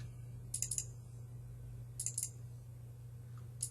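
Two small clusters of quick, crisp computer mouse clicks at a desk during 3D modeling in Maya, faint and close over a steady low electrical hum.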